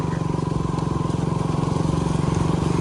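A motorcycle rides a rough off-road track in the rain, its engine close and loud with a steady, rapid pulsing throb throughout.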